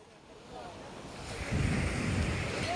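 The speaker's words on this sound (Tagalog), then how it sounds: "lumakas ang hangin ngayong umaga" Strong wind and surf at a sea shore roar in a continuous broadband rush, building louder about halfway through, with no one speaking.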